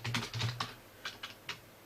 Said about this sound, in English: I'm just putting a little brief reply by typing here.